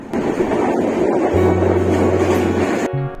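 Interior of a moving passenger train in Bangladesh, travelling between Ullapara and Ishwardi stations: a steady loud rumble with low droning hum, continuous throughout, then cutting abruptly near the end.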